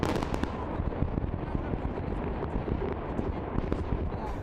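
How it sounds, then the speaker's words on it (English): A dense, continuous roar of rumbling blasts and crackling booms as North Korean nuclear test tunnels are destroyed, heavy and sustained, like distant explosions echoing. "That was the sound of nuclear test tunnels being destroyed in North Korea on Thursday"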